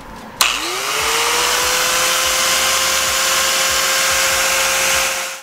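An electric grinder powered from a 12 volt solar setup with a PowMr controller clicks on, spins up to speed and whines steadily and loudly, then cuts off at the end.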